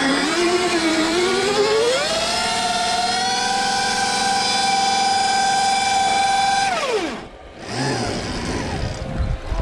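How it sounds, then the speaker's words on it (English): An 80 HP Stark electric dirt bike doing a burnout, its motor giving a loud rising whine that holds steady for several seconds, then winds down abruptly, followed by a brief quieter whir. "How fast can we burn off this tire?"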